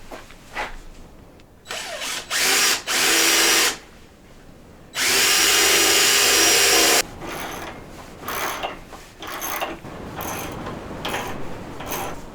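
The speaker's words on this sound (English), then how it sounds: "It's also a good idea to drill pilot holes so that your screws don't strip" Power drill driving pilot holes into a wooden table while setting up an archery bow press, heard as several loud bursts of whirring motor, the longest about two seconds, separated by quiet gaps and light handling clatter.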